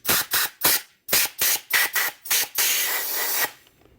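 Air from an air compressor nozzle sprays in short, sharp hissing blasts into the holes of a 15 HP Johnson outboard motor, about a dozen rapid bursts before one longer continuous blast that cuts off.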